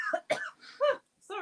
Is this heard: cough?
yes